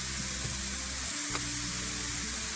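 Mushrooms sautéing in a pan with garlic powder give a steady, close sizzle of frying that holds without pause, with low hum beneath and no voices.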